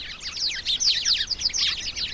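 A flock of house sparrows cheeps and chirrups in a busy, overlapping chatter of short, bright calls, close by and continuous for a couple of seconds.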